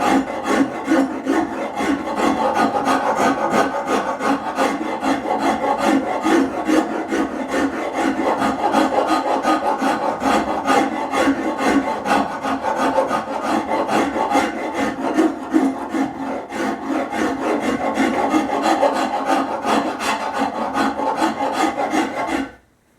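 Rhythmic rasping strokes shape and taper a cherry wood leg for a Chippendale handkerchief table, rounding it over in a steady, close, continuous filing rhythm that stops abruptly at the end.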